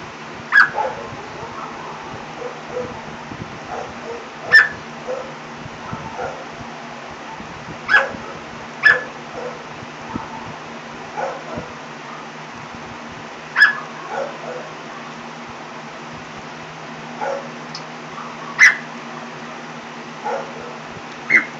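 Repeated sharp bark-like yips, a bird imitating a dog, spaced irregularly every second or two over a steady background hum.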